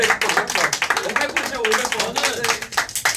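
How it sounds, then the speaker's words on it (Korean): A group clapping together to mark a 500-day celebration for ENHYPEN's live stream, steady close hand claps mixed with voices talking and cheering over them. "500일을 기념해가지고 박수 한번 칠까요?"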